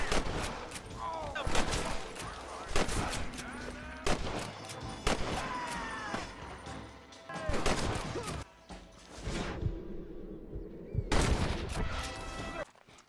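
Gunfire in a gunfight in the video game Red Dead Redemption, with rapid sharp shots cracking in dense bursts, some overlapping, near and loud, with a brief lull before a final volley and voices mixed in.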